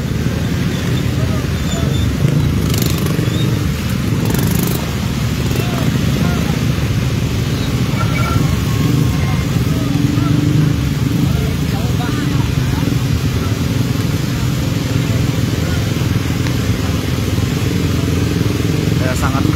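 Cars and motorcycles move through a flooded street on Jalan Daan Mogot, a steady dense rumble of engines and traffic running throughout, with voices talking over it.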